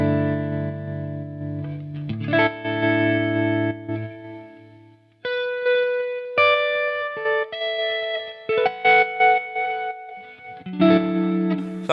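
Electric guitar chords and single notes ring through a Walrus Audio Monumental harmonic tremolo pedal set to a random pattern, the volume chopping and pulsing unevenly with distorted tone across a series of separate strums.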